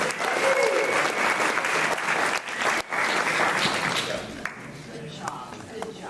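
Sustained applause from a wedding crowd fills the room, dense steady clapping with cheers and voices mixed in, dipping briefly near the end as it thins out.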